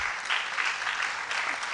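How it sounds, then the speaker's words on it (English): Faint applause from an audience at a university research awards event, a brief, even patter of clapping heard at a distance. "I think this deserves a louder applause."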